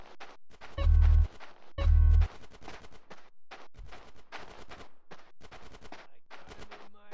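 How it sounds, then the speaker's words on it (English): Gunfire in the video game GTA San Andreas: two heavy, booming bursts close together near the start, then lighter rapid shots crackling on in an uneven stream through the rest. "Get some suppressing fire in there!"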